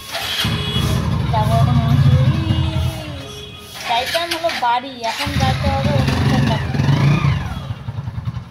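A motorcycle engine runs and revs near the listener at a house gate before leaving for a ceremony, the engine note rising and falling under steady talk from people nearby.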